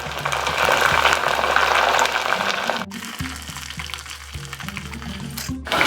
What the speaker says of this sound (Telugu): ఇంకొక 3-4 మినిట్స్ బాయిల్ చేద్దాం.